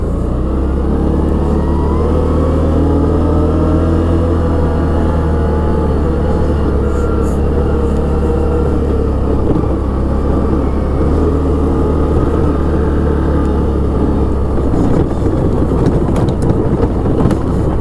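A Can-Am Outlander Max 650 XT ATV drives along with a loud, close engine drone that holds a steady low rumble and rises slightly in pitch under light throttle, with rattling and clatter toward the end.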